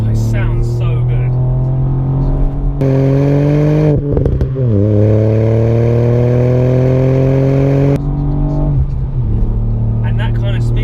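A Ford Fiesta ST MK8 hatchback with a three-cylinder engine accelerating hard from inside the cabin, its loud droning note climbing through the gears with brief dips at each shift, under people talking.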